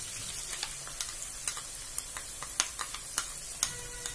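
Gravy going into peas frying in oil gives a quiet, steady sizzle, with light, irregular pops and crackles spread through it and no talking.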